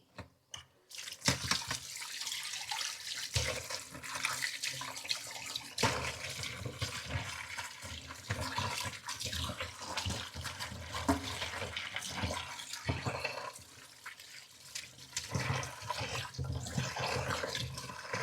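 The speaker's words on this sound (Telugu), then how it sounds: "ఎంత కడిగినా మళ్ళీ ఒక్కసారి మనం శుభ్రంగా కడుక్కోవాలి ఉప్పు వేసి" Fresh fish are rinsed under running water with salt added, giving a steady splashing stream with drips and sloshing in a sink. The sound runs on and off throughout, close by and fairly loud.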